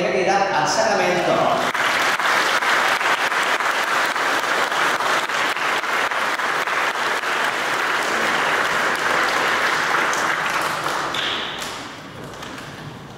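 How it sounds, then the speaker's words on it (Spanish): A church congregation at a Catholic confirmation Mass applauds to welcome the confirmation candidates, steady loud clapping filling the space for about eleven seconds before tapering off. "los aprobamos con un aplauso de bienvenida al sacramento"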